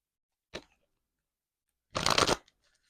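A deck of tarot cards is shuffled in two close, crisp bursts: a brief riffle, a pause of over a second, then a longer, louder flurry of cards.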